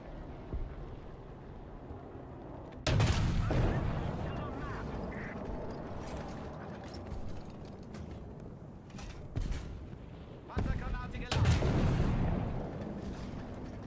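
Tank cannon in War Thunder firing armour-piercing shells, two heavy booming reports several seconds apart, each with a rumbling decay, set among mechanical creaks and clanks from the tank and brief bits of talk.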